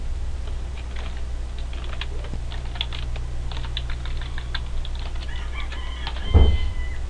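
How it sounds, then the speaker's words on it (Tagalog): A computer keyboard clatters with rapid, irregular keystrokes as an account number is typed, close and moderately loud over a steady low hum, with a rooster crowing faintly in the background near the end. "pwede nyo na po i-type yung account number dito"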